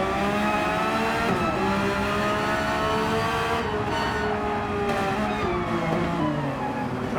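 A Porsche race car at Bathurst's Big Dipper, its engine note heard continuously from onboard, harmonics rising and falling as the driver shifts and lifts, loud and steady with no talk.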